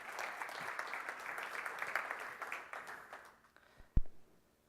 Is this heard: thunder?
no